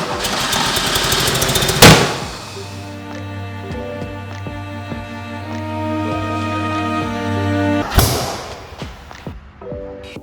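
A Porsche 911 engine with CIS fuel injection idles unevenly, its tone steady but rough, bracketed by two loud bursts as it revs or sputters; no talking.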